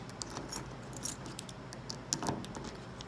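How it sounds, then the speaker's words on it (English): An original set of keys for a 1966 GT car jangles in short metallic bursts, close by and fairly quiet, with a few brighter clinks. "Got an original set of keys with it."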